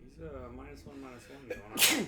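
Near the end of a stretch of talk during a Magic: The Gathering draft game, someone lets out a sudden, loud sneeze close by.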